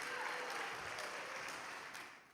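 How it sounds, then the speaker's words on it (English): An audience at a religious gathering breaks into sustained applause, a dense wash of clapping that stays steady before easing off slightly at the end. "we have to give them a big round of applause"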